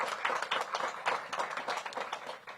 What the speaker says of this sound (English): Give the Metropolitan Police officers a big round of applause.